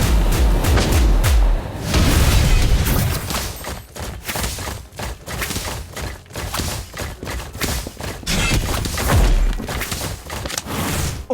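A spell blast in the Harry Potter: Magic Awakened video game booms out as a dense run of heavy, explosive thuds and rumbles, loud and continuous throughout with repeated percussive hits.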